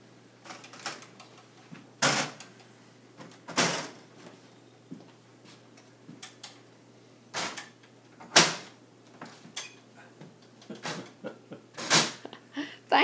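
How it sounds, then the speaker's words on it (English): Wooden cabinet doors swing shut in a home display of vintage bowls and pieces, giving several sharp knocks and thuds spaced a couple of seconds apart, with faint creaks and handling noise between them. "you can shut the doors"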